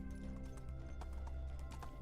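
Horse hooves clip-clop at a steady trot in the medieval survival game Medieval Dynasty, a rhythmic patter over a constant low rumble of game ambience, with no talking.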